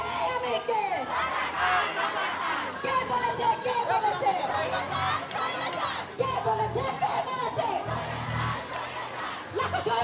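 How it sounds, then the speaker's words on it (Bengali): Students of Rokeya Hall at Dhaka University chant slogans together at a street rally near the Raju Sculpture area, a dense, loud crowd of voices shouting in rhythmic bursts with overlapping cheers throughout. "দেখছি আমরা ঢাকা বিশ্ববিদ্যালয়ের রোকেয়া হলের শিক্ষার্থীরা একই স্লোগান।"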